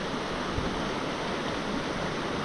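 A village stream swollen above its stepping stones rushes over rocks in a constant, dense, close roar of flowing water, with no other sounds.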